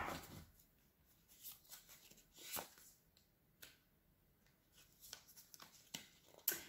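A large deck of cards shuffled by hand, giving soft, scattered riffling and slapping bursts that are quiet and close, with pauses between them.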